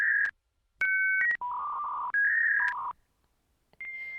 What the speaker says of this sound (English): That's the AOL dial-up, the sound of a computer connecting to the internet, yes, over a phone line.